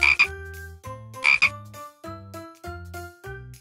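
Frogs croak in a repeating pattern of distinct, resonant calls separated by short pauses. Each call is loud and close, with no voices over them.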